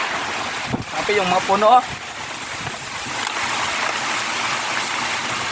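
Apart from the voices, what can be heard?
strong typhoon winds, signal number 4 storm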